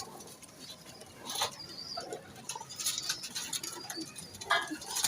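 Pigeons kept by a fancier, coos and soft calls repeating at intervals against a background murmur, fairly faint and close, with brief flutters or scratches between them.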